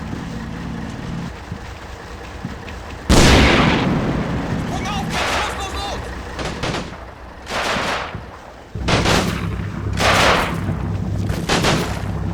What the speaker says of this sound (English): Shooting into the house clears the way of any ATT lying in wait